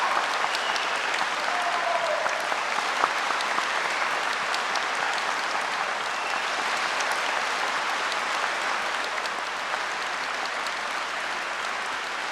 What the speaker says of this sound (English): let's honor them now with the loudest, most joyous applause you can give